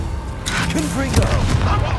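Two booming bursts from the Confringo fire spell in the Hogwarts Legacy video game, one sharp and one heavier, land over a dense rumbling game soundscape, with a voice speaking alongside.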